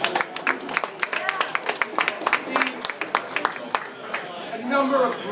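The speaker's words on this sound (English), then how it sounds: "big round of applause, doing a great job." Scattered clapping at a campaign speech, a loose ragged run of individual claps mixed with crowd noise and voices, settling toward the end.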